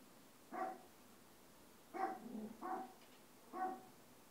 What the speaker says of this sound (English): until the dog stops barking.